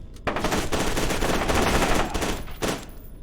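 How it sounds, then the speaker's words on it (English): Sustained automatic assault rifle fire in F.E.A.R. 2, a loud, dense rapid stream of shots lasting nearly the whole stretch, with a brief break and a short final burst near the end. "I probably want to stick to the assault rifle here."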